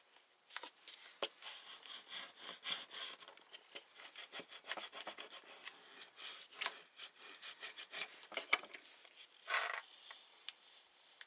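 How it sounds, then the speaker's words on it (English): A Cricut tool rubs back and forth over vinyl transfer, making a quiet, close, rhythmic scraping with irregular strokes that run continuously. "So I'm going to burnish it with this Cricut tool"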